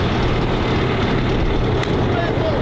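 The BADD GT, a street-legal car, cruises in sixth gear at around 273 mph, heard as a constant loud roar of engine and rushing wind with no letup over the whole stretch.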